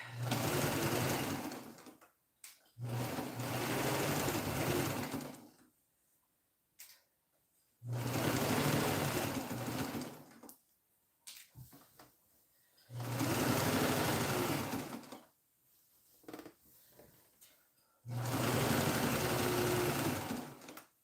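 A sewing machine runs in several bursts of steady stitching, each a few seconds long, with short quiet pauses between them; the machine sounds close and fairly loud.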